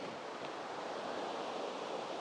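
Deep Creek rushes steadily beside a hiking trail in the Smoky Mountains, a continuous broad hiss of flowing water with no voices.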